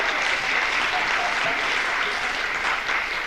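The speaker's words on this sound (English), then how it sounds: "You know, our senior citizen, Adrian Hanna, give him a bit of clap." Audience applause at a 1984 accordion orchestra concert, a full, even burst of clapping from a crowd that stays steady for a few seconds without speech.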